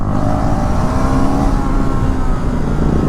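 Engines on a group ride with an R15M, R15 V4 and Duke 250 motorcycles roar loud and steady and close up, with a continuous broadband rumble and no speech.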